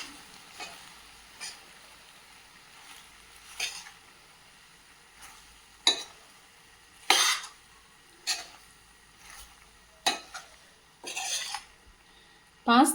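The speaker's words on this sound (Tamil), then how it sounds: "இந்த மசாலாலாம் இந்த பாஸ்தாவில் மிங்கிள் ஆகிற மாதிரி நல்லா கலந்து விடுங்க" Macaroni pasta being stirred with masala in a frying pan, giving scattered scraping and clinking strokes of a spoon against the pan at irregular intervals over a faint sizzle, close and fairly quiet, with no talking.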